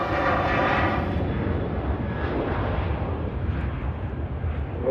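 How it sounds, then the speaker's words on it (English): Airbus A380 taxiing in at Manchester Airport, a steady, loud broadband jet engine roar close by with a low rumble, holding level throughout with no talk. "A380 taxiing in."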